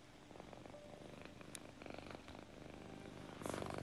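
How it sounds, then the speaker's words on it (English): A cat purring sound effect played over a livestream gives a steady low rumbling purr throughout, close and continuous, with faint background sounds. "thank you so much for the angel kitty noises in my ears"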